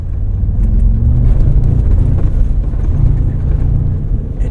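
A 2025 Mercedes-AMG G63 driving into sand, a loud continuous low engine rumble with deep road and tire roar that holds steady throughout, close and unbroken by speech.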